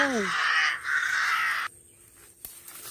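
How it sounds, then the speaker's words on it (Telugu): Crows caw in a forest at dusk: a couple of harsh, rasping calls ring out close and fairly loud, then fade to near quiet with a faint click at the end. "ఎన్ని కాకులు ఉన్నాయంట్రా బాబు?"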